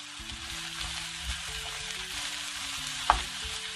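Vegetables stir-frying in a pan for jjajang sauce give a continuous even sizzle with soft stirring, and one sharp utensil clink near the end, heard up close with no voices.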